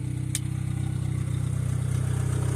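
A turbocharged Honda D15 engine runs with no exhaust fitted, a steady close idle with a low even pulse and no talk.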